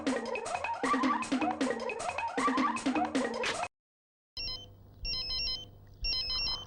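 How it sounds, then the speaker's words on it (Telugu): A telephone rings in a comedy film scene, first a loud warbling ring in repeated bursts, then a short silence, then a thinner electronic ring pulsing in three evenly spaced bursts. "ఫోన్ మోగుతుంటే ఎచ్చావే?"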